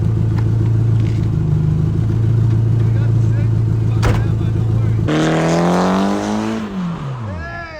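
A car with a Nissan SR20 engine holds a steady, loud idle-to-rev drone, then revs hard and slides in a drift, the engine note sweeping up and down near the microphone at a car meet, with voices talking over it.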